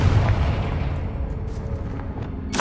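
A Confringo blasting spell goes off in Hogwarts Legacy, a loud low rumbling boom that fills the clip and decays slowly, with a sharp burst near the end.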